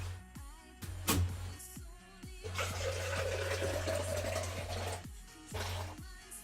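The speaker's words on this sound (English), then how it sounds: "You hear the sound of iced tea pouring" Iced tea pours in several splashing bursts, with a longer continuous stream in the middle, close by and fairly quiet.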